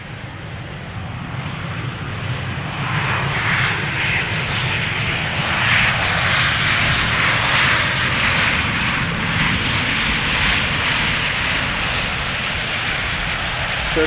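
Embraer jet arriving from Oslo, a loud, steady turbine roar with a bright hissing whine that builds after a few seconds and stays strong and close, with no talk.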